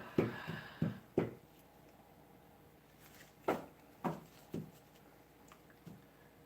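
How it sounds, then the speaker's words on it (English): A tarot deck is shuffled by hand in quiet, close-up bursts: a quick cluster of soft card slaps, a pause, then several more spaced taps and riffles. "I'll shuffle up your deck."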